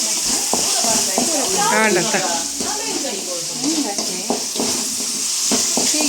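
Tomatoes with turmeric frying in a pan, stirred now and then, give a steady hiss and sizzle with soft scraping, while someone talks over the cooking throughout.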